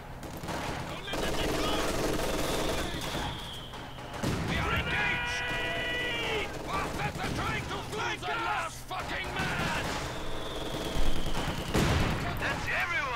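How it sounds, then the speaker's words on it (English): MG42 machine gun fire in Company of Heroes 2, dense bursts of automatic fire over continuous battle noise, with explosions and shouting mixed in throughout. "MG42 just locking down this whole area"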